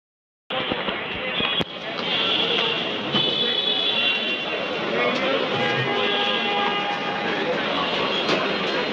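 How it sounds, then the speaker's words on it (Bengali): Continuous rumble and whine of a moving metro train interior, steady and moderately loud, with occasional clicks and faint voices underneath. "আজকে আমাদের ইচ্ছা আছে আমরা মেট্রোতে যাই।"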